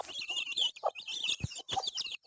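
Chicks cluck and chirp on a dung heap at a farm. The calls are quiet and come in short, busy bursts with brief gaps between them, like a small flock foraging close by.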